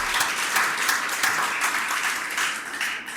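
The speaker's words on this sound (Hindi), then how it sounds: "सर्वप्रथम आप मन के खातिर जोरदार मोर तालियों की गड़गड़ाहट से" A crowd gives thunderous, sustained applause to welcome guests, loud and continuous throughout.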